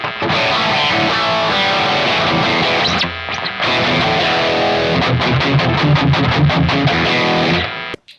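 An electric guitar with P90 pickups plays a buzzy, heavily distorted tone, loud and sustained with a brief dip midway, then choppy palm-muted strums toward the end.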